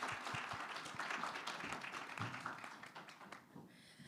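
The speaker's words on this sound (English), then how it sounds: "Please give my panel a round of applause." Applause for a business panel of founders at a talk event, a steady wash of many hands clapping that fills the whole stretch and thins slightly near the end.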